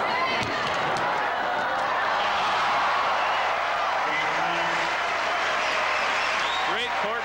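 A tennis crowd at a 1994 Tokyo Champions Tour exhibition match applauds in sustained, loud clapping with some cheering, while commentators talk over it.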